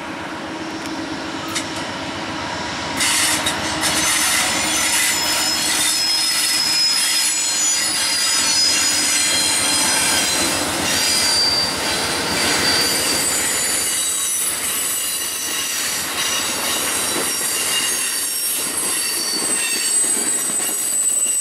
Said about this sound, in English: this sounds like an Amtrak